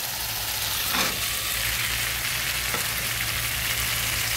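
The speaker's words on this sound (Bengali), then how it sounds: "এবার দিয়ে দেবো সিমের বিচিগুলো।" Bean seeds tipped into tomatoes already frying in a pan, a loud, dense sizzle that holds steady, with a couple of short bursts as they go in, heard close with no talking.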